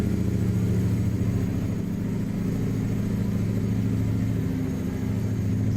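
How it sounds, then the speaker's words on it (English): Mexican cattle truck with a V8 engine, compared to a Scania, runs steadily at elevated revs, a continuous close, loud low-pitched drone with no talk over it. "Almost sounds like a Scania on these revs, on these RPMs."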